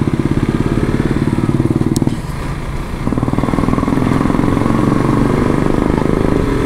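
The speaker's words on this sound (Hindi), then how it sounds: "यूपी की बाइक।" A motorcycle registered in Uttar Pradesh, ridden in Bangalore, runs with a steady throbbing engine note. It dips briefly near two seconds, then the loud, even pulsing returns and holds to the end.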